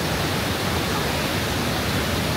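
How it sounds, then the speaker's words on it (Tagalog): Love Waterfall in Sapa, Vietnam roars as a dense, steady broadband rush of falling water, loud and unbroken with no voices. "tinatawag siyang Love Waterfall"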